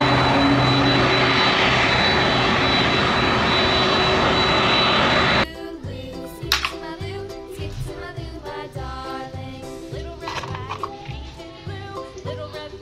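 A yellow mini jet bus gives off a loud, steady jet engine roar for about five seconds, then it stops abruptly and quieter music-like tones follow.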